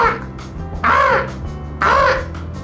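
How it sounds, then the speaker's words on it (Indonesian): Crow or raven cawing in two loud, harsh calls about a second apart, each rising and falling, standing clearly over a low steady background hum. "Kira-kira begini suara burung gagak adik-adik."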